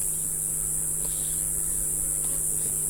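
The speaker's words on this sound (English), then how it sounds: "this beehive's got a lot more bees in it than this one now." Dense, steady buzzing of many honeybees close by at a hive, a continuous drone with no voices.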